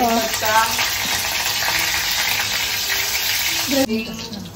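Garlic and curry leaves sizzle loudly in oil in a close pan, a dense continuous crackling hiss with stirring, and a voice talks briefly at the start and near the end.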